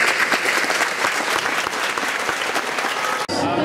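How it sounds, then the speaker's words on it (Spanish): A standing audience at a public report event claps loudly and continuously, a dense even roar of hands that cuts off abruptly near the end. "merece un gran aplauso de todos ustedes."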